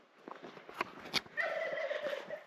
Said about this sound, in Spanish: Miren los pavos.